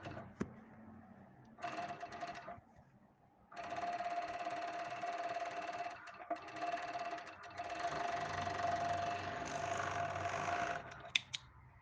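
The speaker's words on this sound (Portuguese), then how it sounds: "E eu vou fazer essa costura aqui, então, aqui em cima." A sewing machine sews the top seam of a traditional foamless bra cup in two close bursts: a short run, a pause, then a longer steady stitching stretch that stops near the end.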